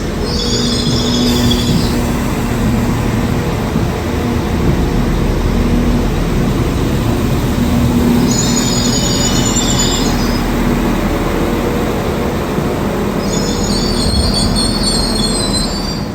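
A Class 197 train runs steadily on the rails with a continuous rumbling roar, and high-pitched wheel squeals recur several times.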